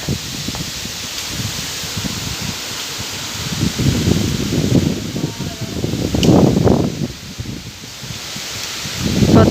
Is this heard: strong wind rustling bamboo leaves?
yes